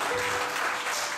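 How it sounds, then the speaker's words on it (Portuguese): A church congregation claps together in a dense, steady burst of applause, loud and close, with no voices rising above it. "Vamos aplaudir."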